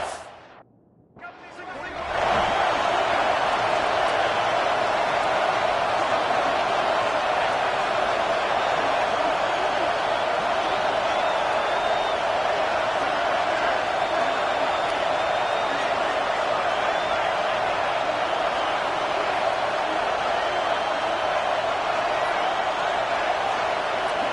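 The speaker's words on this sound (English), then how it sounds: "The Tide crowd roaring noise down on the Saban field on third down." A huge stadium crowd roars on third down at an Alabama Crimson Tide home football game against Oklahoma, a steady, dense wall of cheering that swells after a brief dip and holds loud and unbroken.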